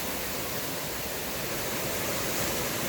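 Broad, steady rushing of a waterfall on a hiking trail, a dense unbroken roar of falling water heard up close with no voices.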